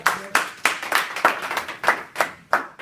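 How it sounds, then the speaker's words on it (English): At a speech, an audience claps in time. About nine sharp, separate claps land at a steady beat, fairly close and clear, with no talking over them. "Give yourself a round of applause."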